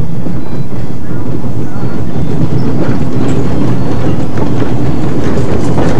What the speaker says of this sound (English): The excursion train brings back memories of the old days